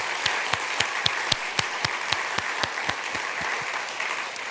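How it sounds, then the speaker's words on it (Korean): A church congregation applauds in welcome during a Sunday service, a steady wash of clapping with sharp individual claps standing out, filling the room at moderate volume with no talk over it. "큰 박수로 한번 환영해 주십시오"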